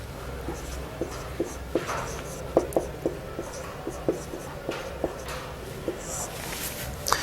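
A pen scratches on paper as a math formula is written out during a lesson, with a string of light taps and strokes under a steady background hum.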